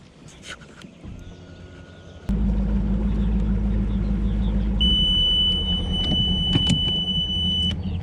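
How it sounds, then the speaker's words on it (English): An overheat alarm sounds on a bass fishing boat: a steady high electronic beep over a loud, close boat engine rumble. "just got an overheat alarm"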